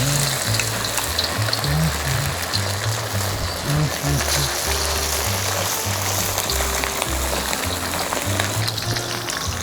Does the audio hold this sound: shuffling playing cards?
no